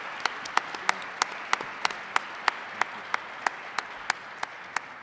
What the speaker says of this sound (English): Please join me in giving a round of applause to these terrific folks who I get to work with.